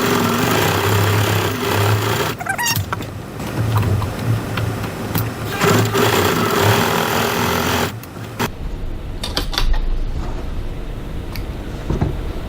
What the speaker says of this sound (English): Now we're just going to add a few rows of extra stitching in the strap area